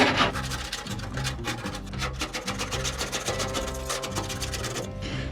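Steady rasping scrape of a tool working old paint and tough primer off the metal body of a 1964 VW Bus, continuous and close for several seconds with no talking.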